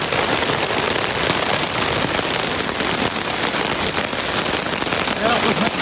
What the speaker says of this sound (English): Pissing down rain now.